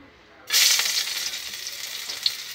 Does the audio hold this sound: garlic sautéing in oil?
yes